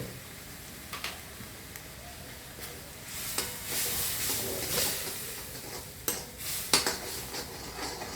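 Turmeric powder hitting hot tempering oil in a pan for a home-cooked dish, giving a soft steady sizzle with scattered clinks of a spoon stirring against metal, fairly quiet and close.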